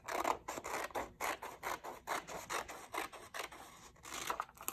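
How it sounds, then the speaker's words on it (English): Scissors cutting paper along a dotted line, a quiet series of crisp rhythmic snips, about a dozen close strokes in steady succession with no talking. "use my scissors to cut this part out"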